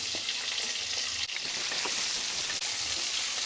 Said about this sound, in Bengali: আলু আর কুমড়োটাকে আমরা কিছুক্ষণ একটু ফ্রাই করে নেব।